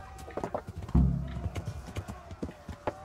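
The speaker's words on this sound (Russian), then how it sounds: "Где-то хорс." Horse hooves clip-clop in a video game, a series of light, fairly close hoofbeats in an uneven gait, with one heavier thump near the start.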